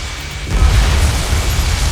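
A destroyed target explodes in the jet combat video game Ace Combat 7, a loud deep boom that swells after a brief moment and then rolls on as a sustained low rumble.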